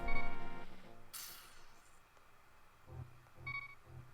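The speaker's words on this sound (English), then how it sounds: "Hope you guys love that beeping sound effect." Electronic beeps and tones from a Super Metroid and Link to the Past randomizer game, a bright chime up front followed by a few short repeated blips with a low hum.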